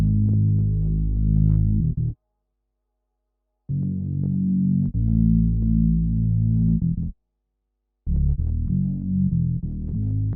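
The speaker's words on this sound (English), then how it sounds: "Next thing I added is this bottomless pit bass" Deep, heavy bass notes from a synth bass preset in FL Studio, following the root notes of a dark R&B melody, play in three sustained phrases separated by short silences, booming and rumbling low.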